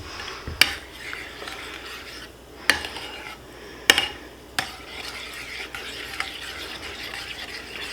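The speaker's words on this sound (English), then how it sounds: "So we're gonna mix up this sauce now." A dipping sauce for fried shrimp being mixed in a bowl, with scattered sharp clinks of a utensil against the dish and soft rubbing stirs in between, close and unaccompanied by speech.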